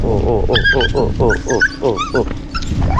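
A dog whimpers and growls with short yips at close range in a home in the morning, its cries rising and falling repeatedly while a person talks over it.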